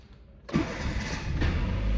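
A Toyota Corolla 1.3 engine, just back from brake service with a new master cylinder, cranks briefly and catches on the first try, settling into a steady, close idle.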